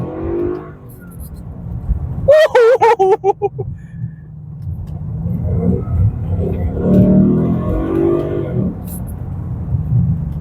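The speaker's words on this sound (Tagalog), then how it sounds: "This engine is mofo glorious." A 2015 Ford Mustang GT's V8 engine revs hard in short rising bursts, then settles into a loud, steady roar, close by, with a voice talking over parts of it.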